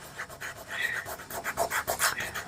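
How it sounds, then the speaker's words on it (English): A fingertip rubs yellow pastel across paper in short, soft strokes, a faint close-up scratchy rasp that swells and fades in an uneven rhythm, heard alone without speech. "a little bit of yellow, and rub it with your finger"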